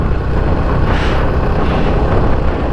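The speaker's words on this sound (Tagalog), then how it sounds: "Yung hirap na yung motor natin." Motorcycle engine labouring up a mountain road, a steady, loud broadband drone with wind noise that holds for the whole stretch, with no voices over it.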